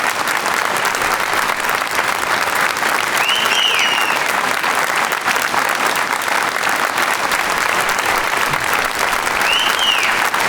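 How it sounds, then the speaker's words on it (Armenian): A studio audience at a television show applauding: dense, loud, sustained clapping from a large crowd, with a couple of short whistles rising above it. "Ծափերը պահում ենք։"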